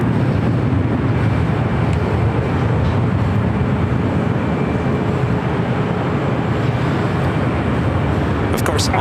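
A large airliner takes off from runway 25 right at LAX, a loud continuous broadband engine roar that holds steady throughout, heard from a distance.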